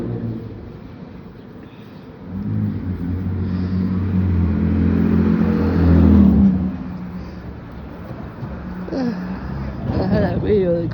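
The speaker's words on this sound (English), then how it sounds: "somebody's revving up the engine" A car engine revs in the street outside a home, a steady low rumble swelling to a louder peak midway, then easing while someone talks over it throughout.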